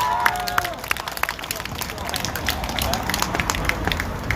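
A crowd at an outdoor political rally for a former Osan mayor, held with a head-shaving ceremony, breaks into continuous clapping, scattered claps and crowd noise mixing with a loud voice early on.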